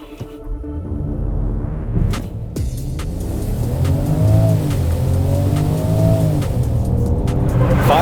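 A 2024 Range Rover Velar launching hard with stability control off, its engine rising through revs and gear changes in a strong, continuous accelerating drone heard from inside the cabin, with a brief tire chirp at the start.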